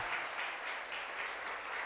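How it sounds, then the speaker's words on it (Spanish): Church congregation clapping during a Sunday service, steady sustained applause from many hands heard at a moderate distance, quiet overall and without talking. "Dele palmas al Señor, por favor, en el nombre de Jesús."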